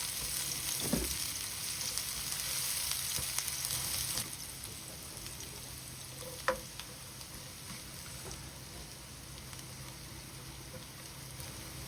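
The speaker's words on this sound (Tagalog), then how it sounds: "At kapag mainit na ang mantika, igisa ang sibuyas at bawang for a few seconds." Onion and garlic sautéing in hot cooking oil in a pan, a steady, quiet sizzle running throughout with a few soft clinks and stirring taps, no voices.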